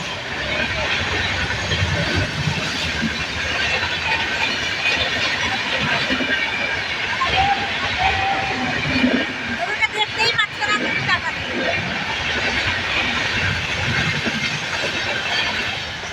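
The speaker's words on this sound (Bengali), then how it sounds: "দাঁড়িয়ে আসছে তো ট্রেন আসছে দেখতে" Train passing a railway junction at Eklakhi, a steady rumble and clatter of rail cars rolling by nearby, with people talking faintly under the noise.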